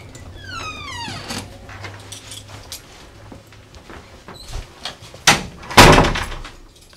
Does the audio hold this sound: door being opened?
yes